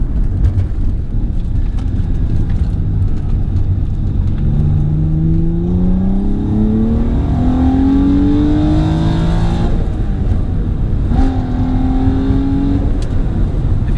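A 2005 Infiniti G35 coupe cruises along curvy roads, its engine note rising and falling steadily through gear changes, loud and close from inside the cabin with constant road roar.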